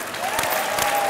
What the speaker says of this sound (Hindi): सिद्धू जीत गया, ताली बजा दो।